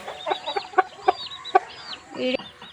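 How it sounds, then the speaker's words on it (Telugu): Four roosters cluck in short, sharp bursts, a few spaced calls close by over a quiet background. "ఈ నాలుగు పుంజులు అయితే అమ్ముతున్నామండి"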